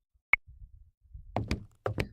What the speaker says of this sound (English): I walk out the front door and head in the direction of the sounds.